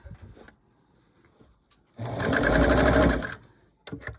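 A sewing machine stitching a concha blanket runs in one loud, rapid burst of about a second and a half, with quieter handling noises before and after.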